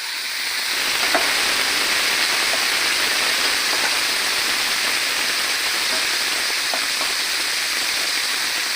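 Taro pieces deep-frying in hot oil, a steady loud sizzle and crackle that fills the whole stretch with no voices.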